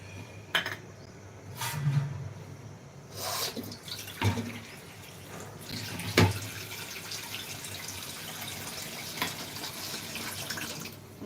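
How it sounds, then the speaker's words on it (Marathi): Water pours and splashes into a bowl of ground gram mixture, with a few clinks and knocks of a utensil against the container, fairly close. "आता यामध्ये पाणी टाकून हे पण भाजीमध्ये टाकायचं आहे"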